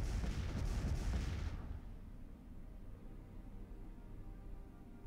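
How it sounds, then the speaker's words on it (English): Antimatter torpedoes fire in the space strategy game Master of Orion: Conquer the Stars, a loud, dense rumbling barrage of blasts for the first second and a half, then dropping to a low, steady rumble. "Antimatter torpedoes."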